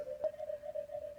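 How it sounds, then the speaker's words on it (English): A custom Serum synth preset built from a simple sine wave holds a single pure, steady tone, with a soft click near the start and faint noise beneath. "a custom synth I made out of just a simple sine wave"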